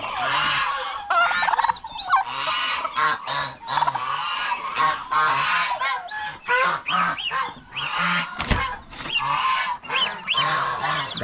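Farm turkeys gobble loudly and repeatedly nearby, with bursts of rattling, warbling calls overlapping one another almost continuously, alongside other poultry.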